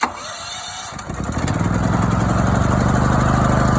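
A small engine started on choke: a pull and a short sputter, then it catches and settles into a steady, close, rapidly pulsing idle.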